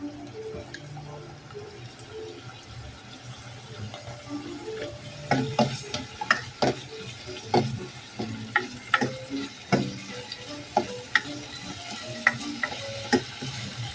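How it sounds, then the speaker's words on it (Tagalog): Garlic sautés in a little oil while a spatula knocks and scrapes the pan in a loose rhythm over a soft, continuous sizzle. The sound is close and moderately loud. "ginigisa yung bawang. Konting mantika."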